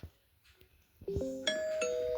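A doorbell rings with a loud, close two-tone ding-dong chime, its bright tones struck a few times in quick succession and left ringing after a quiet room.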